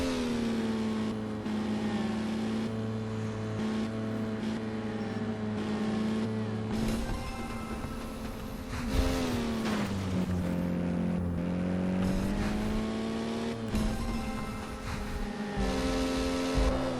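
Traffic in the VR running game inRun on Meta Quest 3: a steady, loud engine drone that swells and shifts pitch several times as vehicles rush past, with no talk.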